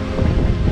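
Strong tailwind gusting over a sailboat at sea at nightfall, heavy wind buffeting and wave wash in a loud, continuous low roar with no talk.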